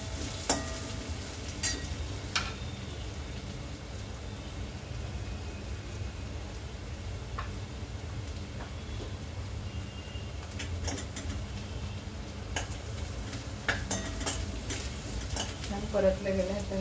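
Plain kolam rice sautéed in a pan for hariyali pulao, a soft steady sizzle and faint stirring scrapes running quietly throughout.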